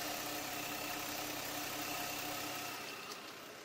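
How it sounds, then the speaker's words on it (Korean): Hyundai Genesis BH 330 engine idling steadily nearby, a quiet low even hum with faint mechanical ticking that fades slightly at the end. "엔진 소음 먼저 들려드리면은 정말 굉장히 조용하고요."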